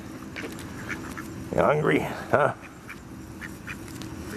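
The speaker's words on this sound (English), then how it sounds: "Hey, little duckies." Ducks quack in short bursts close by while they are fed by hand, with a person talking to them in a soft, coaxing voice over a steady outdoor background.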